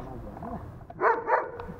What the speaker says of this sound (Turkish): Havladı işte.